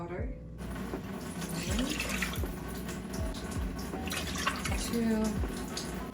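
Water runs from a kitchen tap into a pot, measuring three cups for kimchi porridge: a steady, soft splashing stream that persists throughout while a person counts aloud over it.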